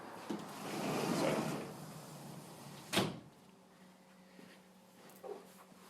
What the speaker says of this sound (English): I'll just close the door because I think it's making noise.